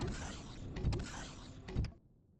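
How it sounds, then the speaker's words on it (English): Radiation exposure noise in the video game Empyrion Galactic Survival: a steady, hissy electronic hum with a couple of brief, louder whirring bursts, ending abruptly in near silence. "you're totally exposed to the radiation. That's what's making that funny noise."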